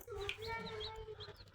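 Chickens and small chicks cluck and peep softly at a water dish on a farm, faint and close, with a low hum beneath the calls.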